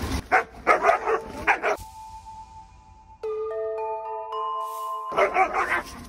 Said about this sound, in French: Shelby, c'est une femelle malinoise qui est venue avec son maître Nathan.